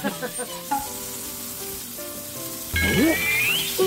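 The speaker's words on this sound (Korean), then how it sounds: "와 기름 모아서 야무지게 끓는다" Butter and oil sizzle in a pan while food fries, a constant crackling hiss that grows louder and busier toward the end, with a few utensil clinks and brief squeaky tones over it.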